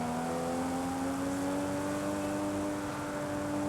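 A car engine drones steadily in Forza Horizon 5, a loud sustained tone held at high revs with the pitch creeping slowly upward, with no talking over it.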